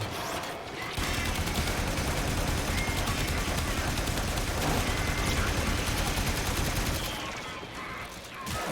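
Continuous heavy gunfire roars through a Warframe fight against the boss Vay Hek, a dense, loud, unbroken wall of rapid shots and mechanical clatter that eases off briefly near the end.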